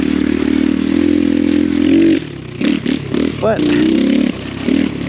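A Storm 150 DLX ultralight dual sport motorcycle on a trail holds a steady close engine drone for about two seconds, then drops into short throttle blips and rattles. Someone speaks briefly over it.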